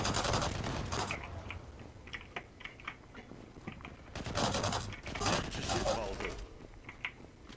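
Gunfire bursts in the online shooter Zula ring out amid keyboard clatter, with two longer loud volleys and scattered shorter shots, while people talk over the action.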